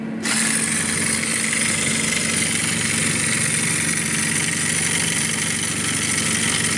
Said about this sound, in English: it will also have the stick shaker actually shake the yoke